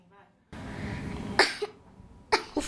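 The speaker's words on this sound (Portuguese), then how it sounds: "O frio chega e com ele a tosse" A child coughs twice in short, sharp bursts, close by, over a faint background hum and low voices.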